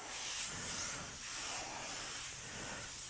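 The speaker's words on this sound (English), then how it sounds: "you're laying out the Quicksilver Chrome in this fine mist" A spray gun lays down Quicksilver Chrome paint in a fine mist of light coats over an anodized candy black finish, giving a steady, unbroken airy hiss close by for the whole stretch.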